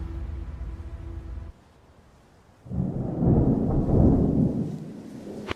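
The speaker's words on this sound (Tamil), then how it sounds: "மழை வேற பெய்யுது." Rain falling with rumbling thunder, a deep low roar that cuts out briefly, then swells back as a heavy broad wash of rain and thunder before easing slightly.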